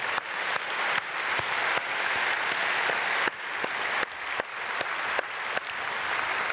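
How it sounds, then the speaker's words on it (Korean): A church congregation at a dawn prayer service applauds for the youth students, an even, sustained patter of many hands with a few sharper claps standing out. "박수하겠습니다"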